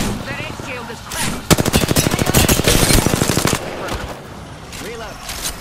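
Automatic weapon fire in Apex Legends: a loud, rapid, evenly spaced burst of close shots lasts about two seconds in the middle. Game voice lines and other action sounds come before and after it.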